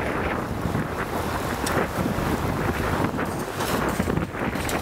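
Blizzard wind in a Montreal snowstorm roars as loud, dense, continuous buffeting against the microphone, with gusting surges and rumble throughout, no speech.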